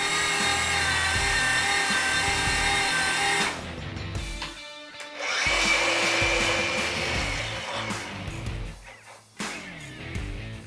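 A RIDGID 760 FXP battery power drive threads an oiled pipe, a loud steady motor whine that drops out briefly, then a grinding, clattering run of the dies cutting metal that varies in pitch.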